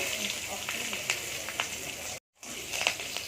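Nigella seeds and green chillies sizzling in hot oil after fish has been fried, a steady close crackle with small pops, briefly cut out near the end.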